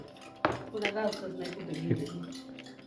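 A sharp clatter of metal dishes, followed by softer clinks and shuffling of utensils, with voices talking faintly in the background.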